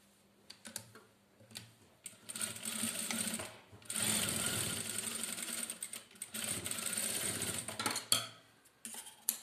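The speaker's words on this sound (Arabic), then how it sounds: "ها هو نخيطه" A sewing machine stitches a collar in loud mechanical bursts of rapid clatter, several seconds each, broken by short pauses and occasional clicks.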